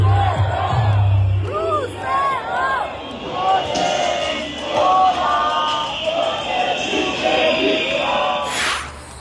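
Outdoor protest crowd chanting "Russians" and singing a protest song, with rising and falling group voices, shouts and whoops blending into a loud, sustained din.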